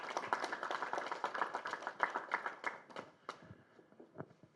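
An audience at a Telangana meeting gives scattered applause: sparse, irregular claps that are fairly faint and fade toward the end.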